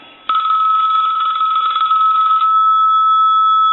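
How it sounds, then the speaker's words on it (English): An ITT Trimline telephone's electric bell rings loudly and continuously with a rapid metallic trill, starting abruptly and sustained close by, then settling into a steady ringing tone. "We'll go ahead and ring this telephone now."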